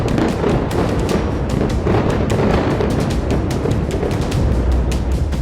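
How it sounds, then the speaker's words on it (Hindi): Israeli bombs exploding over Beirut make a dense, continuous barrage of sharp cracks and booms, with rapid overlapping bursts at loud, even intensity and no break. "बेरूत के आसमान में इजरायली बम ऐसे फट रहे थे जैसे दिवाली पर पटाखे फूटते हैं।"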